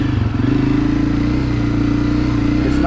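Honda CRF250F dirt bike being ridden in fall, its engine a loud, steady close-up drone with a rapid firing pulse that holds throughout, no speech.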